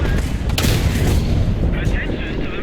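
A Sturer Emil tank destroyer in War Thunder fires its shell with a heavy booming blast, followed by rumbling reverberation and engine drone over a few seconds.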